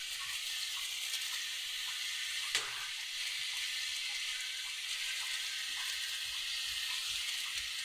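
Pork sautéing with salt and crushed pepper in a pan gives a steady, fairly quiet hissing sizzle throughout, with one brief clink partway through and no talking.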